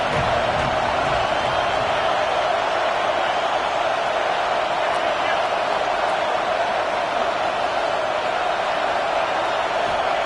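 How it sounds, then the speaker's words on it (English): A stadium crowd at a Texas vs Colorado State college football game roars as a steady, dense wall of noise that holds level throughout. "This crowd bringing the energy and noise early."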